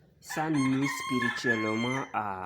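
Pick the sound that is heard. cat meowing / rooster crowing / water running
rooster crowing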